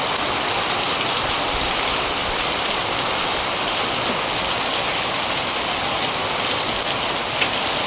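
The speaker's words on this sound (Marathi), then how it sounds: "दिसत आहे का पाऊस कसं ओढलं होतंय?" The first monsoon downpour pours steadily onto a balcony and the surroundings, a dense, loud, unbroken hiss of heavy rain that never pauses.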